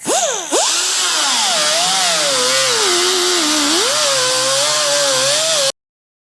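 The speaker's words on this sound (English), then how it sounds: "So, to solve that, we just bust out the cutoff wheel again." A cutoff wheel grinds loudly through the sheet-metal underside of a car hood, making holes for Aerocatch hood pin fasteners; a steady, close, high-pitched whine that dips and rises in pitch as the wheel bites, then stops abruptly.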